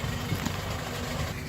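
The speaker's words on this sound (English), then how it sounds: "I've fired up the tractor" A tractor engine idles steadily outdoors on a sunny spring morning at a rural property, a low continuous rumble with no breaks, moderately quiet and heard alone.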